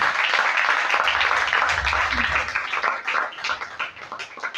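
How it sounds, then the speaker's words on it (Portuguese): A church congregation applauds during a worship service, with dense, steady clapping that carries strong throughout and thins slightly toward the end, along with faint voices underneath. "E aplauda ao Senhor mais uma vez"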